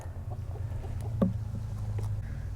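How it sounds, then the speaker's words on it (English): Soft, sporadic clucks from chickens eating food scattered on the ground, with one brief louder squawk, over a steady low rumble of background noise. "Chickens are happy, chickens are fed."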